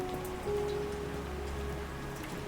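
Heavy rain pours down steadily as a story sound effect, a dense, even hiss of drops on surfaces with a faint low hum beneath it and no talking.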